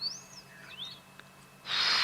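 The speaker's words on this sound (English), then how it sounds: "I think it's a Sabota lark." A Sabota lark in the wild African bush at sunset gives a few thin, sliding whistled calls, fairly faint and a little distant, before a sudden burst of broadband rushing noise covers the end.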